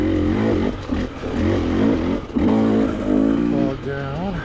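An off-road motorcycle engine is revving in second gear on a rocky, bumpy trail. The engine is loud and close, its pitch climbing and dropping with throttle changes, and a voice comes in over it.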